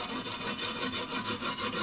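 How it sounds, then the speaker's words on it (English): A Scotch-Brite or Brillo pad scrubs dry glaze powder off a piece of pottery in quick, even back-and-forth strokes, about eight rasping rubs heard up close with no voices. "I use this Scotch Brite or this Brillo pad, whatever, to rub this off, not with a cloth"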